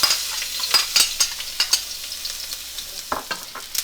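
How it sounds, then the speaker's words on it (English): Garlic stir-fried in a pan before sliced potato goes in, a bright close sizzle broken by repeated sharp scrapes and taps of stirring, no voices. "stir fry the garlics"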